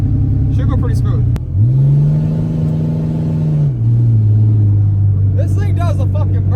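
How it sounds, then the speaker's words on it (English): A massive lifted Cummins diesel truck on 30-inch lift revs hard in one loud, sustained roar that holds for about two seconds and then drops to a lower idle rumble, with brief voices before and after. "Alrighty, so it does a nasty burnout"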